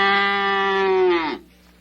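A single long, loud animal call, a sustained bleat-like moo from a cow, holds steady and then drops in pitch and cuts off, with a faint hum remaining afterwards.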